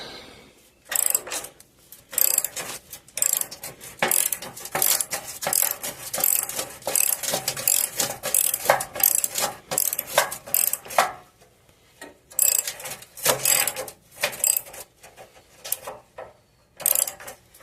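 Ratchet working brackets off a GMC Denali rear bumper, rapid clicking bursts in repeated spurts with brief pauses, close and crisp.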